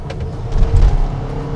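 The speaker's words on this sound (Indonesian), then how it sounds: "Cuma bedanya nih ketika kita injek gaspol kayak gini nih." A 2021 Hyundai Santa Fe naturally aspirated petrol engine revved at full throttle, rising briefly to a loud low roar mid-clip then easing, heard up close from inside the car with no talk.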